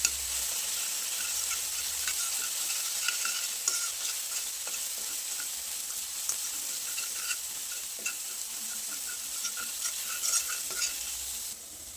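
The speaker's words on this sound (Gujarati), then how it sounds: "આદુ અને લસણને સરસ રીતે સાંતળી લેવાનું છે જેથી એની કચાશ ના રહે।" Ginger and garlic sauté in a pan over a low to medium gas flame for a momo filling, giving a steady close sizzle with occasional stirring scrapes and no talking.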